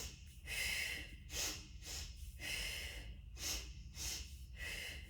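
Quick double sniffing inhales during a core exercise stretch, repeated in short paired bursts with brief pauses, close and soft, no talking over them.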